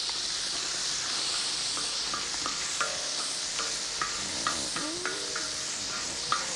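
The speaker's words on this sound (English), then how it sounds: "And let that sizzle away just for a moment" Impala meat and curry paste sizzle in a hot pan with a steady, close frying hiss and occasional stirring clicks and scrapes.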